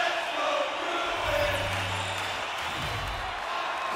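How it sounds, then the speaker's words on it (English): Crowd cheering fills an NHL 2024 video game arena during a tied Stanley Cup playoff game, a continuous loud roar of voices with a brief swell partway through. "you can feel the energy in this crowd"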